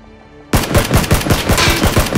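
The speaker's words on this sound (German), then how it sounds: "Da schießt jemand! Wir müssen mitmachen!" Rapid automatic gunfire from a rifle in the battle royale video game PlayerUnknown's Battlegrounds, bursting in suddenly after near silence and continuing as loud, repeated shots for about two seconds, with no talk over it.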